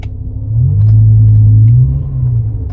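A BMW M5 E60 in sport mode pulls away in first gear: one brief, loud, deep engine rumble that swells, holds and then eases off, with no talk.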